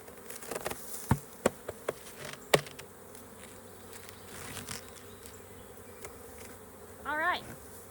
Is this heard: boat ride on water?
no